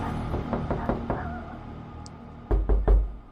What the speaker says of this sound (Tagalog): Huminga siya ng malalim hanggang sa may kumatok mula sa loob.